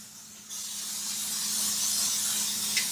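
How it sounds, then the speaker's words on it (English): Cooking spray hisses steadily from a can over food while a warm winter comfort meal is prepared, starting abruptly after a brief pause and continuing as a close, bright, even spray to the end. "Just going to spray this a little."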